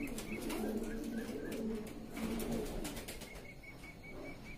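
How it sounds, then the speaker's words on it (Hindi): Pigeons kept for sale, long-feathered fancy breeds, cooing in low, rolling repeated coos, close by, with faint bird chirps and a wing flutter in the background. "कबूतर है साहब"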